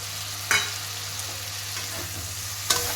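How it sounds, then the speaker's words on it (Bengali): A watered turmeric and coriander paste goes into raw banana and potato frying in a pan, bringing a steady close sizzle punctuated by two sharp utensil clacks, with no one talking. "হলদি আর ধনে গুঁড়োকে একটু জল দিয়ে মাখিয়ে নিয়েছি মিশিয়ে নিয়েছি সেটাই একটু দিয়ে দিলাম"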